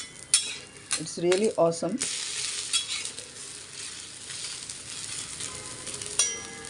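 Broken wheat dosa sizzling on a pan and being flipped, with a steady low frying hiss, spatula scrapes and clinks, and a brief stretch of a person speaking near the start.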